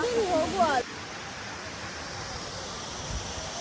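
Jhari Falls waterfall near Chikkamagaluru gives a faint, steady hiss of rushing water. A brief burst of chirping and whistling tones sits over it at the start.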